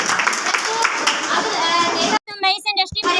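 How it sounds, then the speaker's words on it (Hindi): An audience at a direct selling motivational event claps loudly in steady applause for about two seconds, then it stops abruptly and a voice speaks. "ठोको ताली एक बार में"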